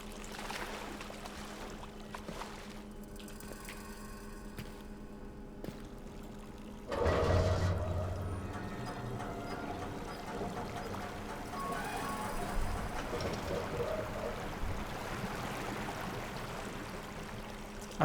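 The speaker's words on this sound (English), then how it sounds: "I thought I heard water, huh?" Water flows continuously through a dark setting in the horror video game Amnesia: Rebirth, a soft, steady wash that swells into a louder gush midway and then settles into a fuller running sound.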